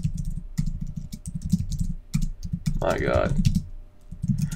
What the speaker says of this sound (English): Listen to the clicks of the keyboard